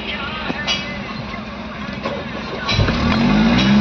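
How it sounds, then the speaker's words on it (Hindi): A Maruti Suzuki WagonR K-series car engine cranks and catches near the end, rising into a steady idle rumble after a stretch of background noise. "तो फ्रेंड्स, गाड़ी हमारी स्टार्ट हो चुकी है"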